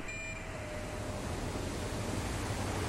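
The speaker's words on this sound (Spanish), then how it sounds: "la interferencia digital deja paso al sonido del mar" Steady roar of sea waves washing in, a broad continuous wash of surf with no voices, a faint tone fading out at the very start.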